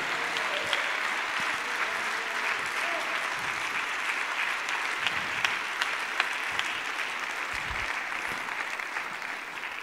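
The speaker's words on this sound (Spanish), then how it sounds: "Denle ese aplauso fuerte al Señor Jesucristo" Loud, sustained applause fills a church during a Sunday school service, the congregation clapping steadily for about ten seconds.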